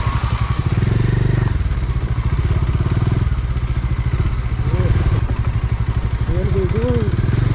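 Motorbikes ride a deep off-road dirt trail near a hidden waterfall at Kollegal, engines loud and close with revving pitch sweeps and clattering over rough ground, people talking over the noise.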